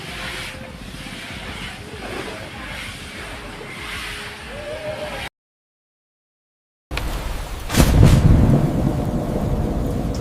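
A thunderstorm with heavy rain in Chennai: a steady roar of rain breaks off briefly, then returns with a loud, close thunder crack and rumbling rain afterward.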